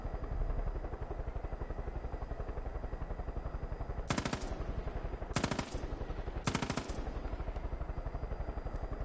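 Steady pulsing helicopter rotor thump in Far Cry 5 throughout, broken by three short bursts of rapid machine-gun fire from the attacking helicopter, loud and close.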